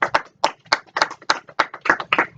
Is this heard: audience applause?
yes